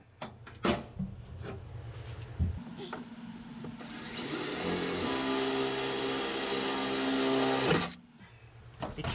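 A power drill bores a hole at a center-punched spot during a fuel pump booster install on a 1999–2004 Mustang, a steady whirring drone of several seconds after a few knocks and clatters, with a voice briefly at the start.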